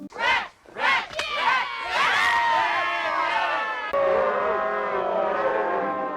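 A crowd cheers and whoops loudly in a Ghoulies II horror-comedy film scene, with excited shouts swelling into a sustained, dense roar and overlapping voices.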